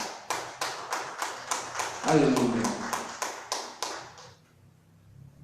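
A church congregation claps for the Lord in a steady rhythm of about a dozen sharp claps, loud and close. A voice calls out briefly in the middle, and the clapping then fades to quiet.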